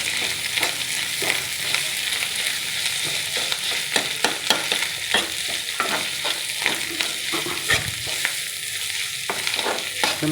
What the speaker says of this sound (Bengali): চলো ভাজাভাজি হচ্ছে,